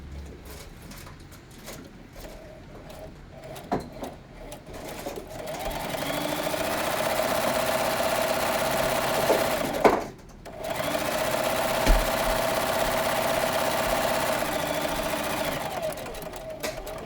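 A sewing machine runs a zigzag stitch on fabric, starting with a few uneven clicks, then a steady, close, continuous whir, with a brief pause midway before it resumes.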